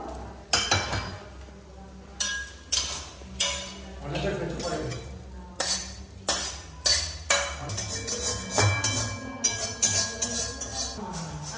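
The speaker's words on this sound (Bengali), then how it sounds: "এখানে এখনো কাঁচা চাউমিন আছে এগুলো ভাজবো" Raw chow mein frying and being stirred in a pan at a casual afternoon gathering, with repeated loud scraping and clanking strokes of a utensil against the metal over a low sizzle, close by, with voices talking at times.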